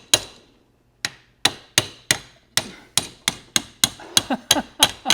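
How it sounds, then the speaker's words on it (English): Sharp metallic hammer blows on the fuel tank screen of a 1974–1989 Mercedes R107, one then a pause, then a quickening series of about a dozen strikes ringing close by. "I'm hammering on this thing."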